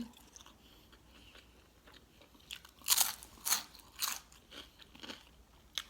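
Crunchy biting and chewing of firm blanched vegetables, eaten with shrimp paste chili dip and fish cakes, comes as a few distinct close crunches clustered midway, with quieter chewing around them.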